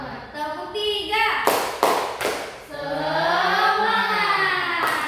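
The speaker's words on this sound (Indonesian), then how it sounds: "Akhirnya tepuk tangan semua." A class of children claps in unison for a rhythmic cheer, several sharp, loud claps in a row, with kids' voices chanting and talking loudly around the claps.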